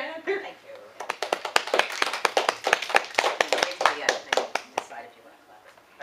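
A small workshop audience claps after a presenter's introduction, a burst of sharp, closely spaced hand claps that swells and then tapers off over several seconds, close and fairly loud.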